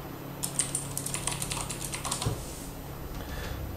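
Quick bursts of typing on a computer keyboard while replying to messages, light clicky keystrokes in short clustered runs with a brief pause, close and fairly quiet.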